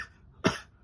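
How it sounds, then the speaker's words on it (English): A single sharp cough from a character in a comedy puppet skit, one short loud burst near the middle with a quiet tail, alone and close. "Jeffy coughing out of nowhere going"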